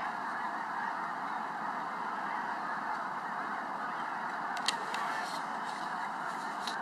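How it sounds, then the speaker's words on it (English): Geese or ducks honk from a distance across a snowy landscape, a continuous chorus of many birds carrying over a steady outdoor hush, with a few sharper calls standing out near the end. "As far as you can see, and there's ducks back there"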